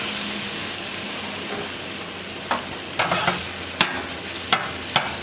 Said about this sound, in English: we're going to put our plantain in here just to make sure it's fried up real nice